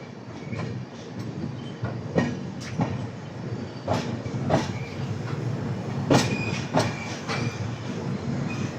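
The 13167 Kolkata–Agra Cantt superfast express runs on rails near Pratapgarh Junction, its wheels clattering in steady irregular clicks and knocks over a continuous rolling rumble, heard close and alone.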